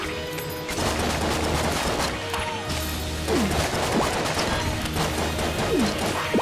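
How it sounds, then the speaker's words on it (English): Rapid enemy gunfire in the Enter the Gungeon video game, dense overlapping shots and crashing impacts running continuously at steady loudness, with occasional rising projectile whistles. "Oh, no, you're shooting so fast."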